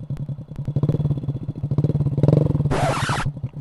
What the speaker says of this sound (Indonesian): Kita geber dikit ya untuk cek sound